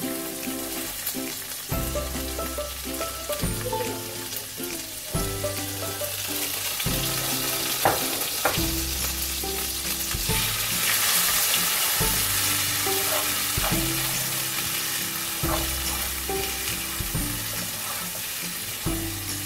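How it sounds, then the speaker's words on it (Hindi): Onions hiss and sizzle in hot oil with cumin in a pan for spinach and potato curry, a steady close crackle broken by regular stirring scrapes and clinks, with no voices. "अब मैं इसके अंदर प्याज ऐड करूंगी"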